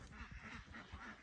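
Ducks on a farm quacking in a short, dense burst, close and fairly loud, with overlapping calls over a steady outdoor background.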